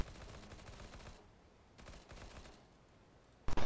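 Gunfire in the tactical shooter CS:GO, a dense volley of rapid shots during a competitive match, heard in two loud bursts separated by a quieter gap, with a sharp sound at the end and no talk.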